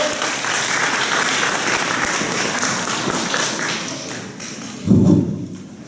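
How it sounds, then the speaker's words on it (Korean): An audience applauds to welcome a lecturer onto the stage at a K-Move talk, a steady, dense clapping that fills the room for several seconds, then thins out, with a brief thump near the end. "여러분 큰 박수로 맞이해주세요"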